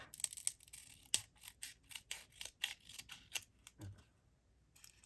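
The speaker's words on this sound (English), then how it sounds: "So I'm just going to bring my scissors up" Scissors snip steadily through paper while a journal cover is trimmed along its sides, giving a quick series of sharp, close cuts with short pauses, heard alone without talk.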